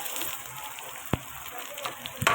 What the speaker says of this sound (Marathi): ते पण चांगलं भाजून घेऊया कांदा आणि टमाटर मिरची